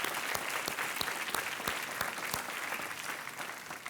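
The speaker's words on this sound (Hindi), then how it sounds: "तालियों के साथ एक बार फिर मिनी माथुर।" A studio audience on the game show Kaun Banega Crorepati claps steadily, with dense, rapid clapping at an even level throughout.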